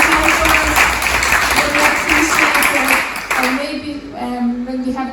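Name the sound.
applause for the helpers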